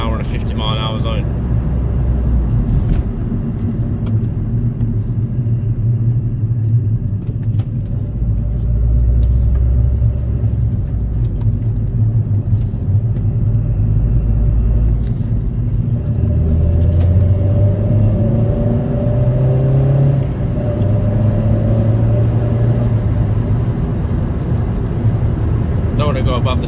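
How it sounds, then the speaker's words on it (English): Vauxhall Corsa VXR hatchback engine at night, a steady low rumble of the motor and road noise throughout, rising slightly in pitch toward the end as it accelerates, with a voice talking over it. "put our foot down that bit more without a worry of someone driving"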